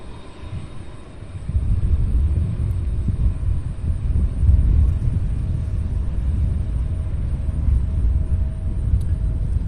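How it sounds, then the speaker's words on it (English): American Airlines Embraer E-170 jet taxiing toward runway 35 Left at Louisville airport, a steady low engine rumble rising after a quiet start and holding at moderate distance, with some wind noise and no talk. "On taxi to the end of 35 left here, we have American Airlines 4654."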